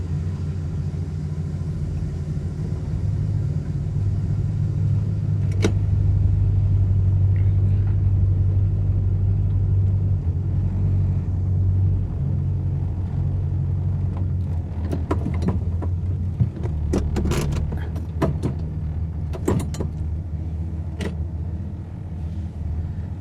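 A 1966 Plymouth Fury engine runs with a deep, steady idle rumble, loud and close, for over twenty seconds, with scattered clicks and knocks toward the end and no talk.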